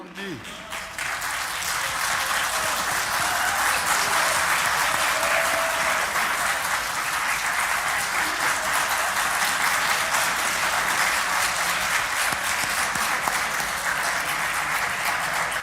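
Sustained applause fills the National Assembly chamber, a dense steady roar of many hands clapping at once for about fifteen seconds, loud and even throughout.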